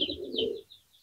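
A black citho pigeon cooing close up, a soft low coo lasting about half a second with a faint higher chirp over it, then quiet.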